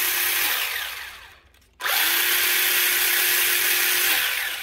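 Hyper Go H16GT 1:16 4x4 remote control truck run at full throttle, a loud, steady high-pitched motor whine that dips briefly, then surges back and holds, close and with no voices.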